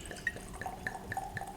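Glenmorangie Lasanta whisky trickles into a glass as a quiet series of small, evenly spaced drips and liquid plinks, close and faint, with no talk over it.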